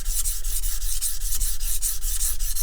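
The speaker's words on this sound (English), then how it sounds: "reset the bevel, give it a nice cutting edge again." A Martha Stewart MSE kitchen knife being sharpened to reset its bevel: loud, close, rhythmic grinding strokes rasp back and forth steadily against the stone with no pauses.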